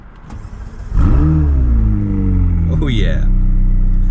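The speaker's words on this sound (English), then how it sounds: "before I start the car, let's go ahead and put this window down" A McLaren 600LT supercar engine cranks and fires, then settles into a loud, deep idle with a rising blip of revs, heard from inside with a window down in light rain; a voice speaks briefly at the start.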